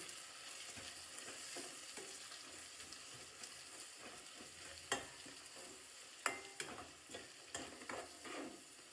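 Rice for pulao being mixed in a pan, a soft, quiet stirring with a faint sizzle underneath and a few sharper scrapes and clicks of the spoon toward the end, heard up close with no talking.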